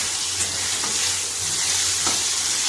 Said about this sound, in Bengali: বেগুনটা ভাজছি